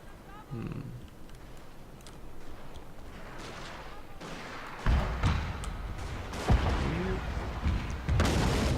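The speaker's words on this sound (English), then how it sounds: "Good artillery shots, but still." Artillery fire in a Dragon War real-time strategy match: booming shots and low thumps land among dense battle noise, with heavier blasts in the second half, under a commentator's continuous talk.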